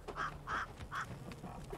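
Bird calls in the Witcher 3 open world of Velen, three short honking, duck-like calls spaced about half a second apart over a soft ambient background.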